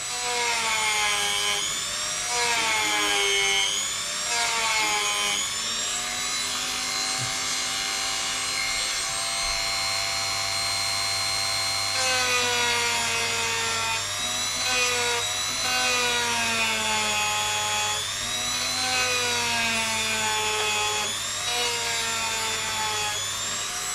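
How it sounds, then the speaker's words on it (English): A rotary tool grinds away plastic on a steering part of an Arrma Outcast 4S v2 RC car, a steady high whine that rises and falls in pitch as it bites in short passes, close and continuous without speech. "And all I'm doing here is slowly shaving away where my lines are."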